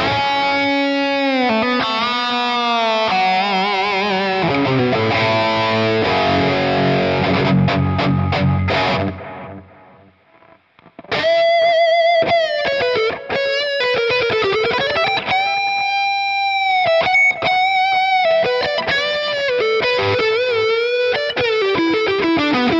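An electric guitar with a distorted overdrive tone, played through a Valeton GP-200LT multi-effects unit, rings out in loud sustained chords and bending lead lines, pausing briefly midway before resuming a melodic riff.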